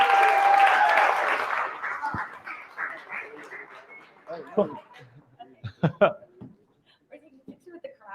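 Audience applause at a live show fades out over the first couple of seconds, followed by scattered voices, cheers and speech as the crowd settles.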